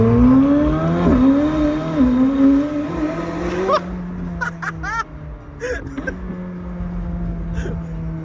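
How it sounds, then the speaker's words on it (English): McLaren 765LT downshifting while driven through city streets: a loud engine drone falls away, followed by sharp crackling pops and blips, close by with brief quiet gaps between. "The downshifts are my favorite."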